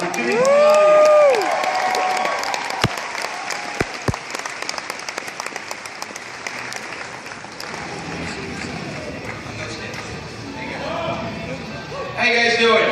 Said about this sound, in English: Let's give a round of applause for Jimmy.